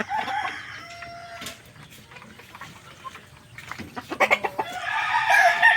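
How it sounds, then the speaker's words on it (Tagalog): Fighting cocks kept on a small mini farm crow and cluck nearby, with a long crow at the start, quieter clucking in the middle and loud overlapping calls and crowing building toward the end. "Ito yung mga panabong natin."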